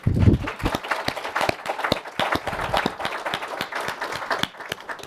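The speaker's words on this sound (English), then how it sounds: "So you got an extra unanticipated round of applause there" Applause from a panel audience at a conference session, dense clapping that starts loud and holds steady for several seconds, many hands close together in a room.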